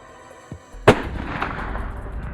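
A single loud rifle shot fired while hunting a giant Cape buffalo in Botswana, a sharp close crack followed by a long rolling echo through open country, with a fainter knock just before.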